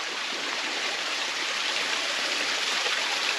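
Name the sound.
creek flowing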